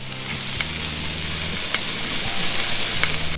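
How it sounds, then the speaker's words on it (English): Smoked back bacon, two slices at a time, frying on a hot griddle pan, a loud continuous close sizzle with a few scraping and tapping touches of a utensil. "when you're cooking this bacon on the hot griddle pan"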